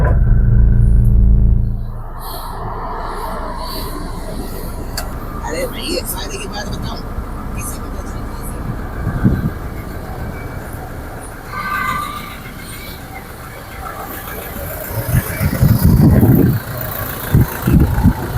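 A Toyota Fortuner manual 4x2 engine cranks and catches, then settles into a steady rumbling idle with a few revs, while people talk nearby.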